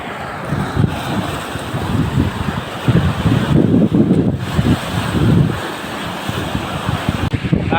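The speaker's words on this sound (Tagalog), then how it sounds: "Lalaki ng alon, oh" Large ocean waves break and surge onto a sandy beach near tall rocks, a steady loud roar of surf with swelling crashes, heavy wind buffeting the microphone throughout.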